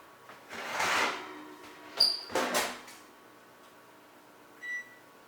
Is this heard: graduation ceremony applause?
no